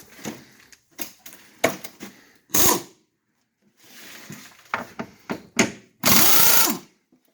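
A ratchet wrench working on a shock absorber bolt while a car subframe is dropped, giving rapid clicking ratchet runs in short bursts between pauses, close up, with a couple of longer harsh whirring spurts.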